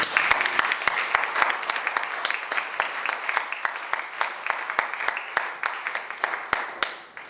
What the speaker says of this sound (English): Always good to have sustained applause.